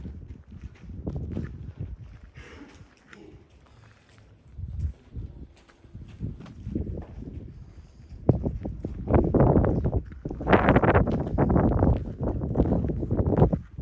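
Gusty wind buffets a microphone atop the Herodium hilltop ruins in uneven low rumbling bursts, growing stronger and more sustained in the second half.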